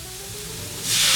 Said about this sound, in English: add cumin, coriander, and smoked paprika and saute for a couple more minutes